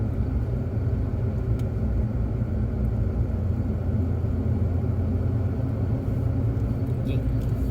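A car cruising along the Foothills Parkway near Gatlinburg, Tennessee, heard from inside as a steady, loud low road-and-engine rumble that holds evenly throughout.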